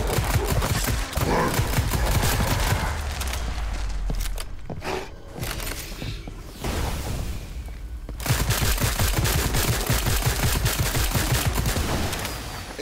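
Dense rapid gunfire from a Call of Duty Zombies match, sustained automatic bursts with a brief lull mid-way before the shooting resumes loud and continuous.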